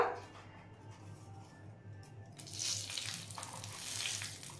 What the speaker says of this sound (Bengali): এবার আমি এর মধ্যে দিয়ে দিচ্ছি 2 টুকরো তেজপাতা